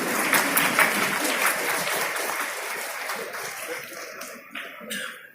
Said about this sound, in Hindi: तालियां भी स्मृतियों में होनी चाहिए।